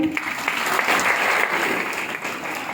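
An audience breaks into sustained applause, many hands clapping densely and fairly close for a few seconds without pause.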